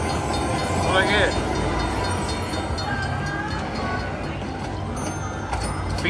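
Slot machine gold train bonus feature effect, a steady rumbling train-like rolling noise with clattering rail sounds and brief squeal tones, playing continuously in a noisy casino.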